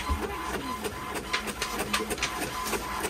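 A mobile all-in-one color printer prints in an RV office, giving a steady mechanical whir with repeated soft clicks and paper-feed pulses, fairly close and continuous throughout.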